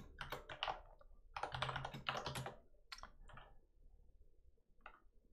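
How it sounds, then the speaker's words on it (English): Quick bursts of keystrokes on a computer keyboard as a Linux service command is entered, clustered clicks in two runs followed by a few sparse taps, close and fairly quiet with no voices. "So to have it running as a service, simply type sudo systemctl start caddy."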